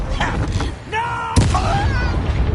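Sharp magical blast from the Bombarda spell in Hogwarts Legacy, a sudden loud boom cutting through game voices and combat noise, with the shouted spell name and other characters' speech heard around it.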